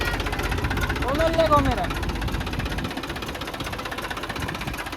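A tractor engine runs steadily, its low mechanical drone rising as the accelerator is pressed, with people talking close by over the engine.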